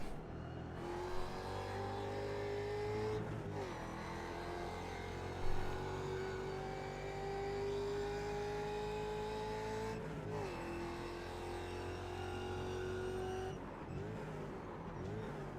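Ford Mustang FR500S race car in the iRacing simulator, engine droning loud and steady with rising revs through the gears, brief dips at shifts, and faint tire noise underneath.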